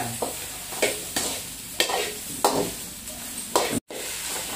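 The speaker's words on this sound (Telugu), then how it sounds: "కొంచెంసేపు కలబెట్టేసి వదిలేద్దాము, బాగా యాగుతుంది" A spoon stirs a brinjal curry mixture in a hot pan, giving about six distinct scraping strokes at a slow, regular rhythm over a soft sizzle, close and moderately loud.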